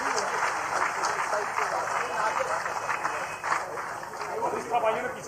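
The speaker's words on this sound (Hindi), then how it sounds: "जोरदार तालियां एक बार आप सभी की तरफ से होनी चाहिए" An audience at a political gathering with the state party president and chief minister in Katni breaks into loud, continuous applause, a dense wash of clapping that holds steady throughout.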